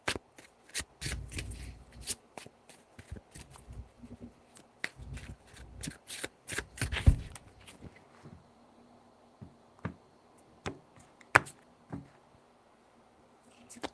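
Tarot cards are shuffled close by in quick riffling bursts, with rapid flicks and taps clustered in uneven runs and short pauses in a quiet room.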